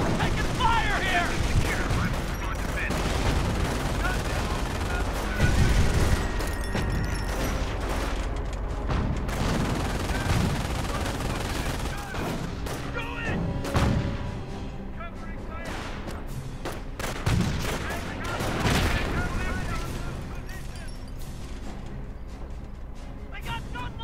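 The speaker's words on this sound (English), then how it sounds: "Under fire! Where'd that come from? Taking fire here!" Sustained gunfire and explosions rage through a World War II–style video game battle around Angoville, with bursts of rifle and machine-gun fire, distant artillery thuds and shouted soldier voices throughout.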